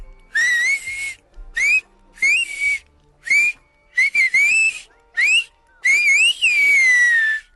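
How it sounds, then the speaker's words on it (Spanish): A whistled greeting in Canarian silbo, the Canary Islands' whistled language: a single near, loud whistler produces a string of about eight sharp melodic whistle phrases that rise and glide in pitch, separated by brief pauses, with the final phrase long and slowly falling. "el saludo que mandó Bartolo a todos los silbadores de Canarias."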